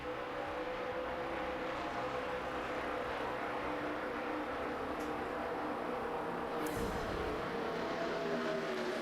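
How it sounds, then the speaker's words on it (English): Stock cars racing in a pack at Talladega Superspeedway, a continuous loud engine roar that swells and drones steadily throughout, heard at a distance. "pack of cars thundering around Talladega from our aerial coverage"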